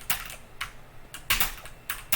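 Computer keyboard keys pressed in quick bursts, space, W and A, during a jump in a game; several sharp clicky taps in clusters, close and alone with no talk.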